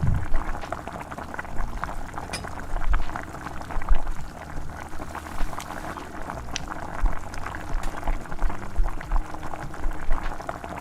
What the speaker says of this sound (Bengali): মোচাটা সিদ্ধ হয়ে গেছে